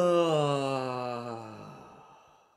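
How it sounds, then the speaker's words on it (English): A drawn-out, voiced yawn from a group of home choir singers during a warm-up, starting loud and tapering off gradually over a few seconds. "let's have a big yawn"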